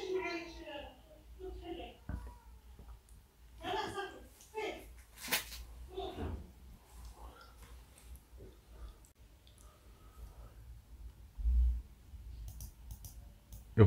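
A computer mouse clicks a few times, sharp and close, while someone talks through spreadsheet steps over a quiet background.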